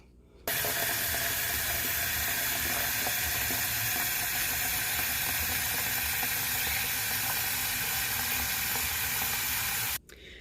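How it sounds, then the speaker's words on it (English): Water runs hard into a large bucket being filled for a betta fish tank water change, a loud, steady rushing hiss that starts abruptly, holds constant and cuts off near the end. "I filled up the bigger bucket"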